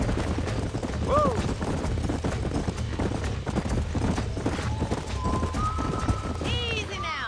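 Horses from the Western game Red Dead Redemption clop along steadily with hooves, harness rattle and a brief whinny, under continuous talk from several people.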